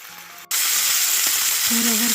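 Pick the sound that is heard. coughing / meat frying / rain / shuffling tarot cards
meat frying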